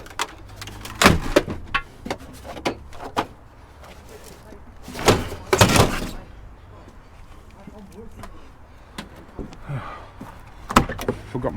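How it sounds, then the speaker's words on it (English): A door is opened during curbside trash picking for scrap, with sharp clunks and knocks around one and five to six seconds over steady rustling and handling noise nearby. "I didn't think I could open this side of the door."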